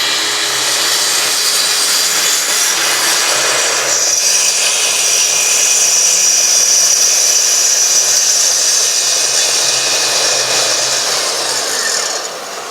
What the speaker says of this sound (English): So really easy and accurate way to plunge cut.